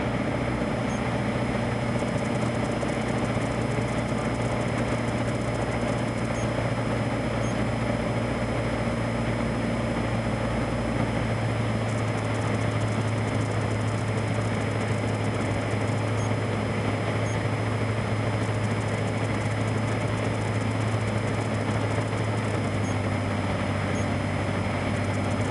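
A Piper Cherokee light aircraft drones steadily in flight, its engine a constant loud hum with an even tone that shifts slightly partway through, heard from inside the cabin with no talking.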